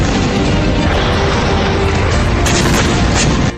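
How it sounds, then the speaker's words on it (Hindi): Cruise missile strike on a capital city during a Russian attack, heard as a continuous loud, saturated roar of blast and rumble that barely varies before cutting off abruptly at the end. "इन हमलों के लिए क्रूज मिसाइलों का इस्तेमाल किया गया।"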